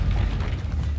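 A Confringo explosion spell from the Hogwarts Legacy game, a brief, loud, low rumbling blast that fills the whole moment without any voice.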